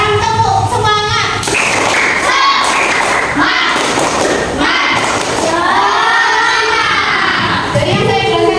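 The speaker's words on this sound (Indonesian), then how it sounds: "Sekarang tepuk semangat." Schoolchildren in a classroom perform a loud rhythmic spirit clap, a burst of claps and thumps mixed with kids shouting and chanting together for several seconds, close and energetic.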